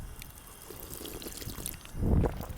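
Water runs steadily from a drinking fountain spout in a New Zealand city centre, with a louder gush of splashing near the end, close by and without talk.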